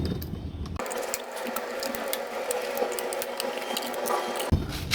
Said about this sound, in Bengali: কন্ট্রোল বক্সের যে স্ক্রুগুলো কাভারের স্ক্রু এগুলো আগে খুলে নিচ্ছি